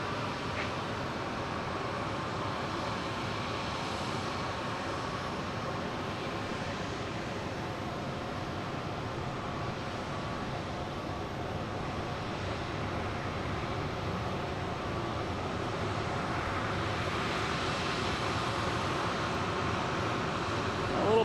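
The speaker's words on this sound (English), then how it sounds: "Here is Delta 571, A321neo coming in from San Diego." Delta Airbus A321neo jet landing at Boston Logan after a flight from San Diego, a steady broad engine roar that swells slightly toward the end, heard from a distance without talk.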